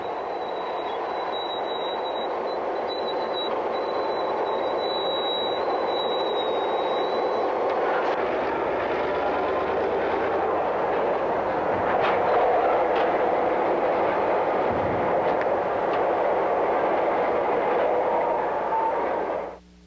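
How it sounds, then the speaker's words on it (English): Florida East Coast SW1200 diesel switcher No. 233 works the south end of Bowden yard with a steady, fairly close engine rumble and rail noise that holds throughout, with a thin high whine early on. "One of only two SW1200s on the FEC, 233 works the south end of Bowden."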